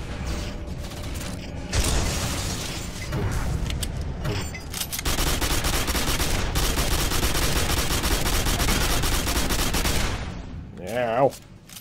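Shotgun firing in Quake 4, heavy booming shots among dense, continuous combat noise and clanking mechanisms, with a voice breaking in near the end.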